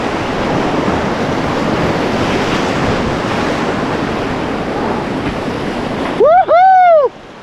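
Big waves on an undammed river crash and roar as a loud, steady rush of water while paddling, ending with a brief excited shout.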